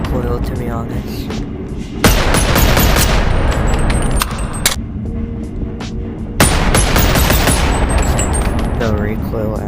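Gunfire in a virtual reality shooting game comes as loud, sharp bursts of shots, with dense rapid volleys around the second and sixth seconds and scattered single cracks between, plus clicking handling sounds.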